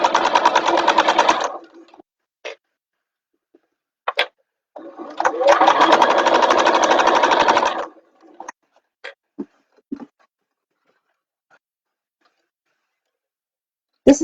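A sewing machine basting bag pieces in place runs in two steady bursts of stitching, one short and one several seconds long, separated by pauses with scattered clicks and light handling taps.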